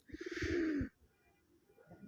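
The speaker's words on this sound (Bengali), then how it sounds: "আকাশি কালার কবুতর দেখেন কি পাগলা একটা নর রে বাপ ওরে বাবা দেখেন কি ডাকার" A sky-blue male pigeon coos loudly and close by, a rapid throaty run of pulsing coos lasting under a second, followed by quieter background noise.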